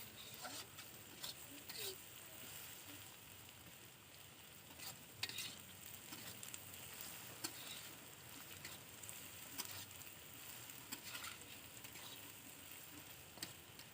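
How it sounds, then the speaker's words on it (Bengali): Onions sizzle steadily in a pan, turning light reddish while being fried for kosha mangsho, a spiced meat curry. A faint, continuous crackle runs throughout with soft stirring scrapes. "পেঁয়াজটাকে ভালো করে থেসে ভাজা করছে"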